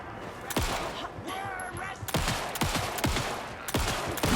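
Gunshots in the video game Alan Wake 2, several sharp, loud blasts fired in an uneven sequence over a few seconds, with game ambience between shots.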